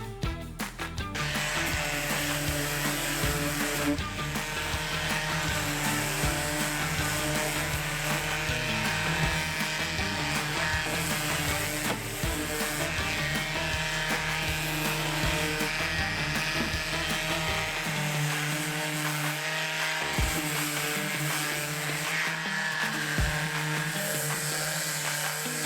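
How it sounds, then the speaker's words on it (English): A power sander works over filler on an IKEA LACK table, giving a continuous close, loud buzzing whir that holds steady throughout with slight shifts in tone as it moves. "give it a very quick sand"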